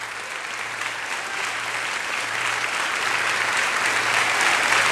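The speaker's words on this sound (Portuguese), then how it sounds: "Fique de pé, vamos aplaudir mais ao Senhor." A standing church congregation applauding during a sermon, thick continuous clapping from a large crowd that swells slightly toward the end, with a faint low hum underneath.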